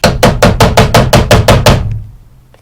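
A hammer knocks a metal pin through a handmade skinner knife handle: nine sharp, evenly spaced strikes in quick succession, loud and close, followed by a fading ring and quiet.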